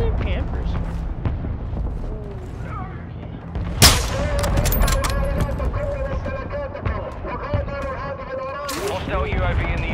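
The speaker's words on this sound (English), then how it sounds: "our mortar strike is inbound" A mortar strike hits in Modern Warfare 2, with booming explosions and rumbling blasts around scattered gunfire, loud and close, while someone talks over the action.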